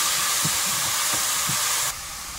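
A splash of water hits a hot pan of frying spice paste for a red chicken curry, releasing a loud, close, steady steam hiss that cuts off sharply near the end.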